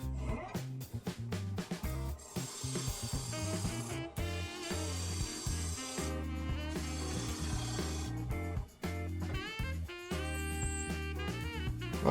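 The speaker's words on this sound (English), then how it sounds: "Just going to put my skew chisel on its side and try to do a few rings here." A skew chisel chatters and scrapes against a spinning maple platter on a lathe in rapid, uneven bursts, with a steady low machine hum underneath and brief pauses between cuts.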